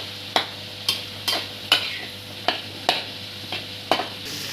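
Onions, green chillies, tomatoes and cucumber fry in oil, a steady sizzle broken by about nine sharp spoon scrapes at a regular rhythm, close and moderately loud.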